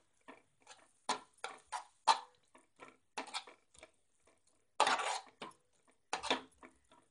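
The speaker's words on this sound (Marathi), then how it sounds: "ते मिश्रण एकजीव होण्यासाठी आपण हलवत राहूया" A spoon scrapes and taps in a pan while stirring a coriander batter mixture, a quiet, close, irregular run of scraping and clicking strokes with short pauses and no voices.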